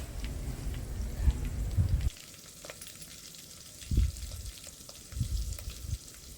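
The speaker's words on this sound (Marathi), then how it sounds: "आता आहे ना आपल्याला हे छान असं परतून घ्यायचं आहे तर इथं मी कढीपत्त्याची पानं घेतली" Green chillies and curry leaves sizzle loudly in a pan over a wood-fired clay stove, the crackle dropping abruptly after two seconds to a softer fry punctuated by a few thuds and stirs.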